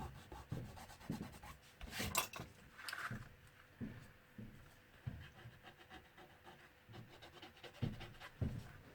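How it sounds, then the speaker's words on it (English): A white gum eraser scrubbing a vintage book spine, giving quiet, close, irregular rubbing strokes with soft scratchy textures and pauses between them. "gum eraser and give it a little scrub, and that just tidies things up a bit"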